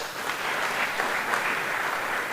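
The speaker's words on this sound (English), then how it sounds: "Let's give him a round of applause" Audience applause for the Kenyan representative at a regional Nile Day event, a steady wash of many hands clapping at moderate level throughout, with no voices rising above it.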